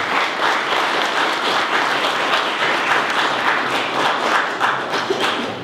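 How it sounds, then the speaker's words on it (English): Steady, full audience applause for a new class of inductees and honorees at a mayor's reception in Holyoke, a dense roar of many hands sustained at even loudness throughout, with no voices over it. "So I'd like to give a round of applause to our inductees right now"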